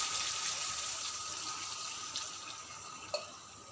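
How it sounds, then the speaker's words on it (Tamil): Water poured into a pan of mint chicken gravy as it cooks, a steady close rushing and splashing flow with a small clink near the end, no voices. "இப்போ கறி வேகிறதுக்கு நம்ம தண்ணி ஊற்றிடலாங்க."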